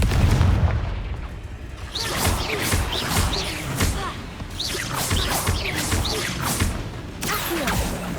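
Spell blasts from the Hogwarts Legacy video game boom and thud in a quick series with swooshing bursts, fairly loud in the foreground over a low rumble.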